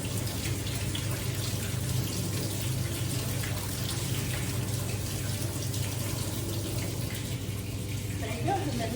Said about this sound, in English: you're just gonna run it with some cold water. It's gonna get a little bubbly.